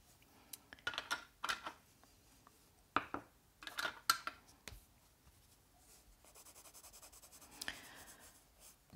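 Caran d'Ache Supra watercolor pencils scratch across paper close up in bursts of quick strokes, then a run of rapid, even back-and-forth shading.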